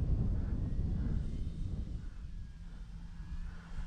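A beginner RC high-wing airplane, an Arrows RC Bigfoot, flies overhead outdoors, giving a steady droning engine buzz at moderate distance with slight wind rumble and no speech.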